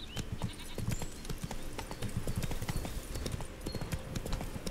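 Horse hooves clip-clopping at a steady galloping rhythm on the horse Roach in The Witcher 3 video game, close and continuous, with no talking.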